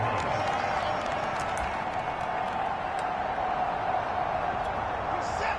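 Crowd murmur at an NFL stadium during a Browns football game, a steady dense roar that stays loud and even throughout, with faint scattered claps.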